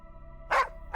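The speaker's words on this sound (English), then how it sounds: "That dog barking" A dog barks twice in the adventure game The Lost Crown, two sharp, fairly close barks about half a second apart over a quiet, humming game soundtrack.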